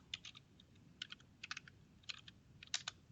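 Someone types code on a computer keyboard in quick, irregular clusters of soft, close key clicks, quiet and alone.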